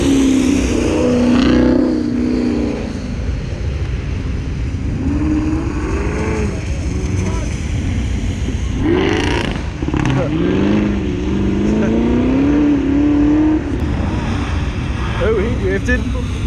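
Car drifting in at LS Fest, a loud, sustained engine roar with wavering revs and tire noise close by, rising and falling throughout, with onlookers talking over it.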